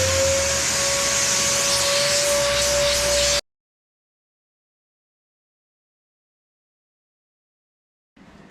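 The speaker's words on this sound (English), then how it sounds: "Let's get it vacuumed out." A vacuum cleaner runs loud and steady, with a constant motor whine and airflow hiss, while cleaning a Tesla car's interior. It cuts off abruptly into silence, and a brief burst of noise returns at the very end.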